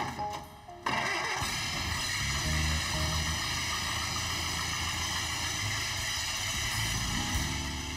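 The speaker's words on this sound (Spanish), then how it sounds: "Pudimos encender el Ford, pero no se oye muy bien." A 1910 Ford car engine catching after a brief start attempt, then running with a rough, uneven low chugging idle, close and steady to the end, suggesting a poorly adjusted carburetor.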